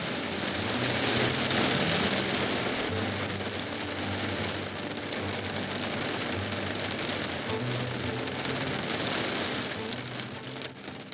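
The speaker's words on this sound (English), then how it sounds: "But it's now softly raining outside" Soft rain falling outside in the woods, a dense, steady patter on surfaces heard from shelter, continuous and fairly loud, easing slightly near the end, with no talking.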